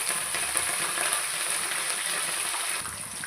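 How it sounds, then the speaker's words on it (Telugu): Carrot, onion and potato frying in a pan for vegetable rice, a steady bright sizzle that holds at an even level throughout, with no talking. "క్యారెట్, ఉల్లిగడ్డ, ఆలుగడ్డ ఇవన్నీ ఒక్కొక్కటి వేసుకొని ఫ్రై చేసుకోవాలి"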